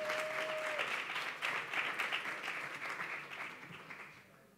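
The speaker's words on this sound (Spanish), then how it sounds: "Un fuerte aplaudimiento." Audience applause at a talk on gender violence in digital spaces and video games, a steady wash of many hands clapping that tapers off near the end, heard alone without speech.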